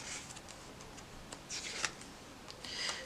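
Tarot cards shuffled by hand, giving a series of soft, papery riffling bursts that come in uneven clusters at close range, with no talking.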